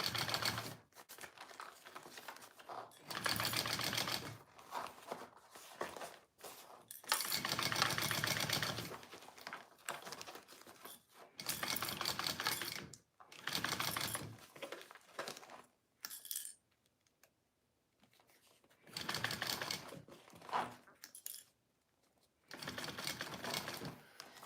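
A sewing machine stitches fabric for a bowler bag with binding, running close in repeated bursts of a few seconds separated by brief quiet gaps and small clicks.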